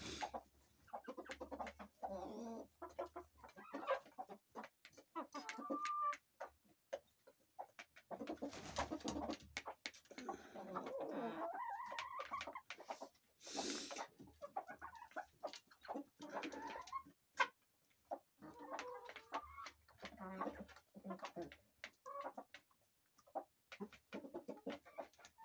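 Chickens and roosters in a poultry yard cluck and call in irregular bursts, with pigeon-like cooing mixed in, fairly close and varying in loudness over a long stretch.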